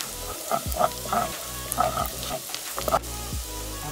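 Green chili fries in hot oil in a pan while spicy chicken noodles with mixed vegetables and potato are being cooked, with close, steady sizzling and bubbling and occasional stirring clatter.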